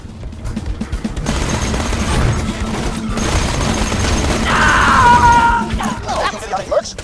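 Rapid automatic gunfire and bursts in the Borderlands 2 video game, loud sustained fusillade with booms, with voices and shouting mixed in.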